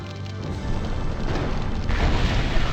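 An enemy vehicle blowing up in MechCommander, heard as a sustained, loud, rumbling explosion that swells gradually and holds steady without a sharp single blast.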